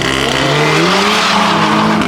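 Audi S3 and RS3 quattro cars launching side by side down a drag strip at Saldanha, a loud continuous engine roar with rising revs over about two seconds, heard close with no talk.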